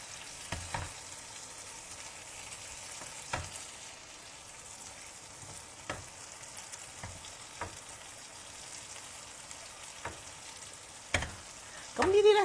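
A vegetarian chicken patty pan-frying in oil gives a soft, quiet sizzle with scattered clicks and taps as it is shifted and flipped, and a louder clatter near the end.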